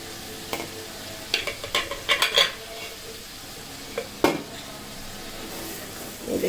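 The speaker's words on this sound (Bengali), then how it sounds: "মশলাটা ভালো মতন কষানো হয়ে গিয়েছে" Spice masala for chicken is stirred and fried in oil in a pan, a soft background sizzle broken by several sharp clinks and scrapes of a metal spoon against the pan.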